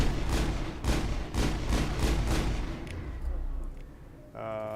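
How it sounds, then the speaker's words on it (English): Enemy gunfire in the sci-fi shooter Mass Effect: a run of loud, evenly spaced bursts of shots, then a brief pause before a humming electronic game tone takes over. "Why are they shooting me?"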